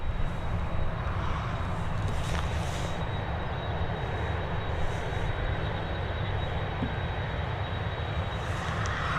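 An airliner departs Dublin Airport bound for Wroclaw, producing a steady, loud, low jet rumble with a faint high whine, sustained evenly throughout.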